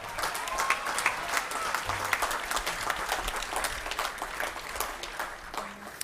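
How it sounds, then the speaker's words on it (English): Audience applause fills a reception welcoming Pope Tawadros II at the diocesan headquarters in Melbourne, Australia, a steady mid-level clapping sustained through the whole stretch with no talk over it. "can I please have another round of applause for the wonderful support that Mr. Fakhri has showed our church."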